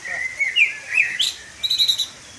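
A bulbul sings in a forest in China, a run of bright, clear whistled phrases with rising slides and a quick trilled flourish near the end, fairly close and alone over quiet background.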